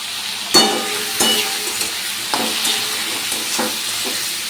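Potatoes frying in a pan, a loud, continuous sizzle close up, punctuated by several sharp scrapes and clinks of a spatula stirring, with no talking.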